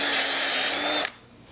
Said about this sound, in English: you can always go back with a little bit larger drill